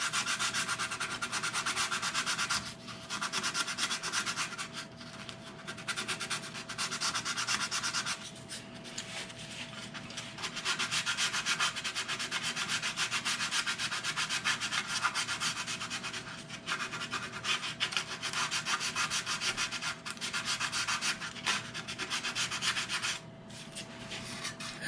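Steady hand sanding with 220 grit sandpaper on wooden guitar side braces: continuous close rasping strokes with brief pauses, and no talking.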